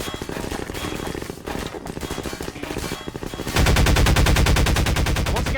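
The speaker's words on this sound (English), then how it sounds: "And I probably shouldn't be using the pulse rifle" Pulse rifle gunfire in Half-Life 2 Episode 1, with rapid bursts and scattered shots amid game noise, then a loud, sustained stream of automatic fire, all close and heavy.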